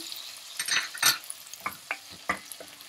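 Onions, carrots and potatoes sauté in a pot, with a soft sizzle broken by several distinct stirring scrapes and clinks from a utensil, close up, and no voices.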